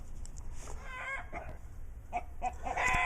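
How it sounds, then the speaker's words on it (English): Chickens make alarm calls, squawking and clucking in agitated bursts, a rooster-like crowing call rising near the end, fairly close with steady background noise. "you'll have to excuse the chickens and their alarms"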